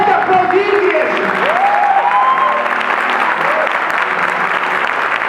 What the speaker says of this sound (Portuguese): Pode aplaudir, igreja,